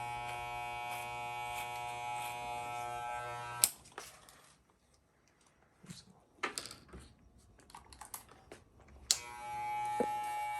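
An electric hair clipper buzzes steadily and close at the start of a haircut, cuts off, then comes back after a stretch of quiet clicks and handling noises.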